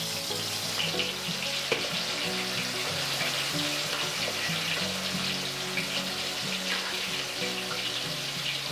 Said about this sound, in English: Now it's time to fry the chicken.